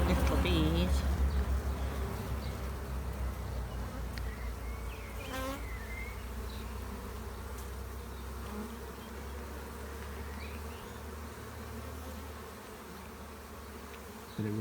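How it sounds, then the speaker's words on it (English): Honeybees swarm and buzz around a drawn hive frame capped with honey at the top, a dense, steady drone that runs the whole time, with a voice talking faintly underneath. "Lots of little bees."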